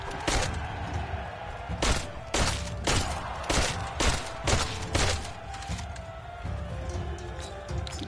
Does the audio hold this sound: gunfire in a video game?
yes